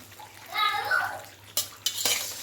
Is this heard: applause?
no